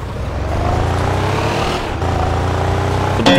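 A stock muscle car engine without a turbo in Car Parking rumbles steadily at near distance with a deep, truck-like low drone, a brief dip midway, and a sharp rise at the very end.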